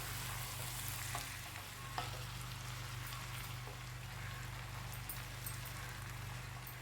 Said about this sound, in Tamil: அதையும் ஒன்று சேர்த்து வதக்கி விடுங்க. இது எல்லாத்தையும் ஒன்றா கிளறிட்டு தேவையான அளவு உப்பு சேர்த்துருங்க.